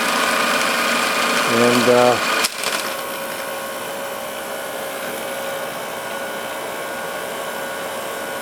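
The motor of a 1946 Victor model 40B film projector runs as a steady, close mechanical hum and whir. Someone speaks briefly at first, then a click is followed by a slightly quieter, even drone.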